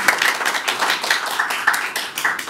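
Seminar audience applause for a speaker being introduced: close, crisp individual claps in an uneven rhythm, bright and fairly loud, with no talking over them.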